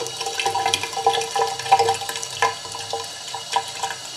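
Water pours into a home-made toilet with splashing, gurgling and dripping that rise and fall in uneven surges, close and moderately loud with no one talking.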